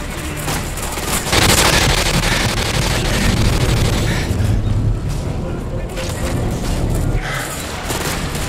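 AGM missile strikes in Modern Warfare 2's Contingency mission, deep booming explosions and rumbling blasts, loud and sustained, with radio voices talking over them.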